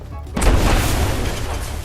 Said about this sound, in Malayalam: ആ ഷോപ്പിൽ ഒരു സ്ഫോടനം തന്നെ അരങ്ങേറിയിരുന്നു